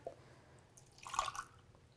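Water poured from a container into a large mixing bowl while preparing Sturbridge White milk paint, a short splashing pour of about half a second amid quiet room tone.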